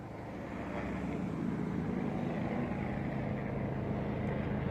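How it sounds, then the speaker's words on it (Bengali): A helicopter passes over a house, a steady rumbling drone that swells in the first second and then holds loud and even, with no talking. "হেলিকপ্টার যাওয়ার আওয়াজ হচ্ছে"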